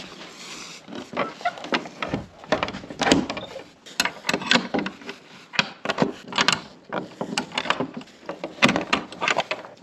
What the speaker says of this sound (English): let me show you how you lock this door